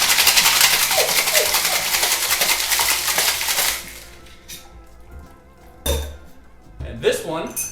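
Ice rattling hard inside a cocktail shaker while a painkiller rum cocktail is mixed, a loud dense clatter for several seconds that stops, followed by scattered softer knocks and clinks.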